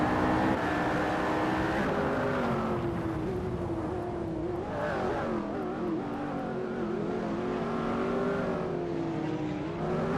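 Several race cars, including a 2012 Jaguar CX-75, revving and accelerating in a racing video game, a dense layered engine whine rising and shifting pitch continuously, loud throughout with no talk.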